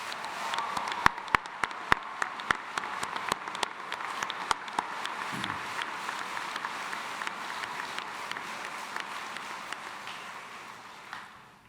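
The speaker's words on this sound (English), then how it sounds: "Can we give these faculty and staff who have poured their hearts out to you one more round of applause?" A commencement ceremony audience applauds, with loud scattered individual claps early on thinning into a soft, steady patter of distant clapping that fades out.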